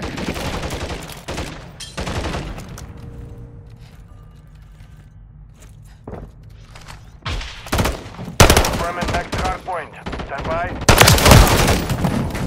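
Gunfire in the video game Call of Duty Modern Warfare 3, with loud bursts of shots scattered across the clip between quieter stretches of game ambience.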